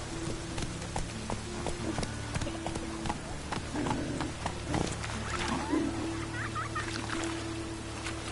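Galloping hooves from a horse ridden through bad weather in The Witcher 3, a continuous clip-clop rhythm under wind, music and brief game voices.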